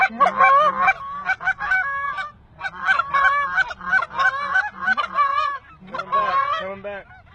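Wild geese honk loudly and continuously, a dense overlapping chorus of many birds calling in bursts at close range, with no talk over the calls.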